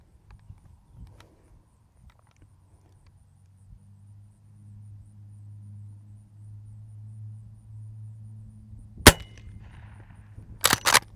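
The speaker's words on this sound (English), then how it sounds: "But just for giggles, I'm going to try to hit that gong." A Marlin 1894 lever-action rifle fires low-decibel .44 loads at a distant steel gong: a sharp single crack stands out after a quiet stretch, followed near the end by a few more loud impulsive bangs.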